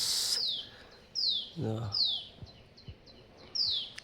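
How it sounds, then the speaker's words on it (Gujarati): Short high sparrow chirps repeat every second or so, birds calling near and far, with brief low murmurs and a couple of soft thumps between them. "ચકલા અને ચકલીઓ ને બધું બોલે છે"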